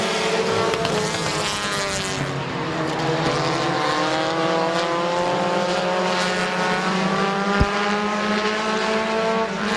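Race cars roar around Midvale Speedway on the final lap, a steady, loud engine drone with pitch rising and falling as the cars pass, continuous with no talk over it.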